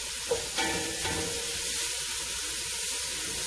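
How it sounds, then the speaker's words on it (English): Black beans and tomatoes cook in a pan for a pasta dish. A brief scrape and clink of stirring comes first, then a soft, steady sizzle continues to the end. "We're doing a lot of stirring."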